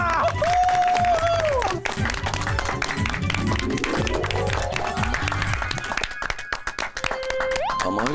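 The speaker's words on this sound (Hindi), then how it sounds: "मारो तालियां" A studio audience on a comedy family TV serial claps and cheers in a dense burst, with musical stings and a rising tone layered over the clapping and a voice briefly heard.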